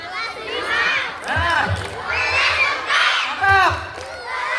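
A crowd of school children at an Isra Mi'raj commemoration shouts and cheers in rhythmic bursts, loud and lively, with energetic group voices.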